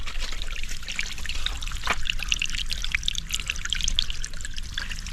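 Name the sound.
water trickling down a rocky channel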